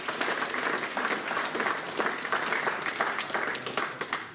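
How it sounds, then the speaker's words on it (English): A room of people at a club's end-of-season presentation evening applaud the volunteers, with continuous, moderately distant clapping that stays fairly even throughout. "big round of applause for the volunteers"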